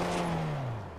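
A car engine in the video game Fortnite winds down as the vehicle parks, a steady hum sliding lower in pitch over a single brief second, heard alone without talk.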